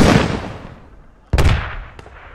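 Gunfire in the military video game Squad: a sharp, loud shot cracks after a fading earlier blast, then a fainter second shot follows, echoing with distant reverberation.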